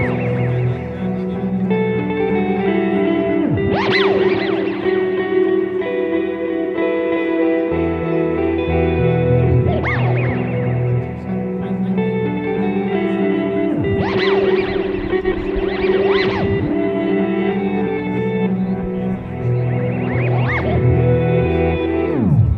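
Guitar loop played through a Strymon delay pedal, sustained chords with repeating echoes and swooping pitch-bending warbles recurring in a regular cycle, loud and close with no talk.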